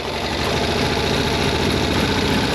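An engine is revved after a crankshaft bearing repair but fails to pick up, giving a loud, steady, rough drone with a low pulsing knock that stays flat throughout, close by and without talk.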